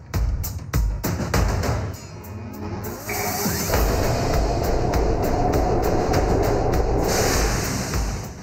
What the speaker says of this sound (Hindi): तो चलते हैं ट्रेन पर और आपको भी इसकी सैर करवाते हैं।